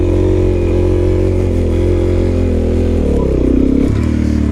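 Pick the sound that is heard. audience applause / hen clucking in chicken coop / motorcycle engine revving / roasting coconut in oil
motorcycle engine revving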